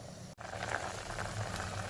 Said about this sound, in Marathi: भाजीला व्यवस्थित उकळलेलं आहे